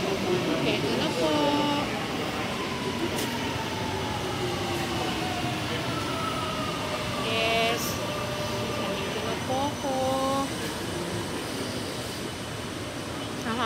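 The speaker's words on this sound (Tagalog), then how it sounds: "Ito na po yung train." A train pulls into a station as a steady broad rumble with tonal squeals and whines from the wheels and brakes, continuous and fairly loud throughout, with a voice speaking over it.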